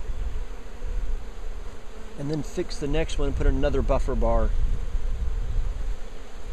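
Honey bees from a survivor hive hum in a steady, close buzz during a hive inspection, while someone talks over it partway through.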